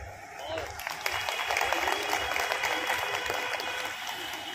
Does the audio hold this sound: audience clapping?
yes